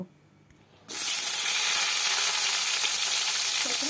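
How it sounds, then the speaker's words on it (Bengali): Eggplant pieces drop into hot mustard oil, and after a short quiet moment a loud, dense sizzle bursts up and holds steady and close. "তেলটা ভালো করে গরম হয়ে গেলে প্রথমে আমি বেগুনগুলোকে ভেজে নেব।"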